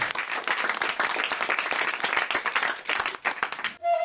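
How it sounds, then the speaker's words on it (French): A radio studio audience gives a dense, sustained round of applause that stays loud and even for about four seconds, then cuts off abruptly into a short tone. "En tout cas, on vous applaudit, on vous embrasse quand même."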